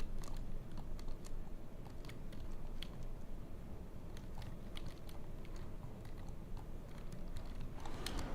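Computer keyboard keys tap in irregular bursts of sharp, light clicks during a World of Warcraft session, faint and close against a steady low hum, with no talking.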